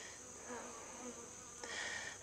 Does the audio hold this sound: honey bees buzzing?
yes